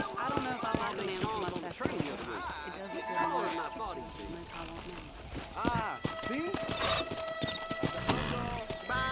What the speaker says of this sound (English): ¿Aquí otro caballo?